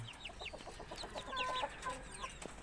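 Chickens, including roosters, cluck and chatter in a quick run of short calls, nearby but fairly soft, with several birds overlapping.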